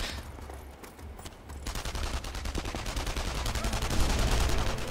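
Sustained gunfire in the video game Enemy Front: a dense fusillade of rapid automatic shots, loud and close, building in intensity and running with no talk over it.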